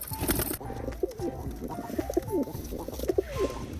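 Pet pigeons, a breeding pair kept in a loft, coo close by in repeated low throaty rolls, several soft calls in quick succession with light rustling.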